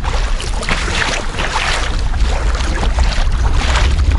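Strong wind roars steadily against the microphone over churning waves while paddling a kayak on a river, a loud continuous rush with no voices.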